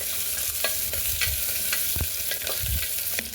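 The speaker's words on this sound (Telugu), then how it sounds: "ఇదంతా మిక్స్ చేసి ఒక 2 మినిట్స్ పాటు మనం దీన్ని ఫ్రై చేసుకోవాలి" Chopped onion and green chilies sizzle in oil for tomato pulao, a constant close hiss with scattered stirring clicks and a soft scrape near the middle, no talking.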